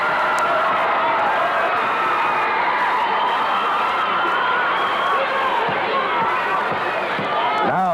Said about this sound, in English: Listen to the crowd. They let you know we've got a tie ball game.